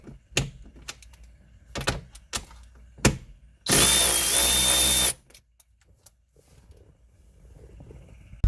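A power tool removes the 10mm nuts holding the gear shifter on a C5 Corvette, giving one loud whirring burst of over a second, surrounded by scattered clunks and knocks of tools and parts close by.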